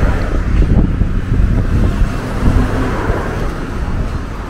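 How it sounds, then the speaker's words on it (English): Steady wind blows and buffets outdoors in the East Legon neighbourhood of Accra, a loud continuous rumble with gusting swells and no speech. "It's a very quiet, very windy, very peaceful, very calm community"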